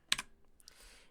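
A few quick keystrokes on a Mac computer keyboard, a tight cluster of crisp clicks followed by a lighter tap, close and quiet with no talking.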